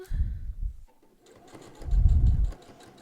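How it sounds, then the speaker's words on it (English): Sewing machine stitching down pleats on a reversible fabric mask in two short low bursts separated by a pause, close and moderately loud, with no voices. "Sew your pleats down"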